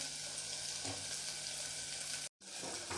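Onions sizzling steadily in a pan for masala dosa filling, a close, constant hiss with a faint stir, briefly cut to silence before the frying resumes.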